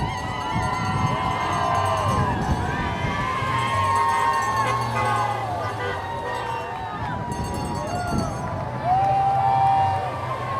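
Crowd cheering and shouting along a roadside as Donald Trump's motorcade departs for New York, a dense, sustained roar of voices with whoops and shrieks rising and falling over roughly ten seconds.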